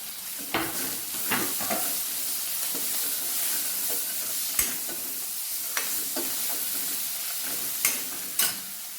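Vegetable curry with masala, coriander and tomato cooks in a pan with a soft, steady sizzle, and a spoon clanks and scrapes against the metal now and then.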